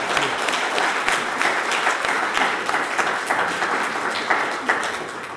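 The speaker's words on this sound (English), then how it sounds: "a big round of applause to our three excellent speakers for your remarks" Warm, steady applause from a conference audience after a panel discussion on EU strategy toward China, an even, dense patter of many hands sustained at moderate volume.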